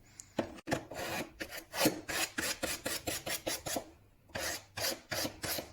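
Secateurs blade being sharpened along its existing bevel with a file, a run of close, loud rasping strokes in steady rhythm, with a brief pause before a final burst of strokes.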